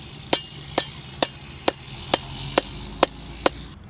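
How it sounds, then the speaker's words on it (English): A rubber mallet pounds a pole into the ground with eight sharp, evenly spaced strikes, each a crisp close knock that fades quickly. "So you just take a rubber mallet or hammer and pound it into the ground."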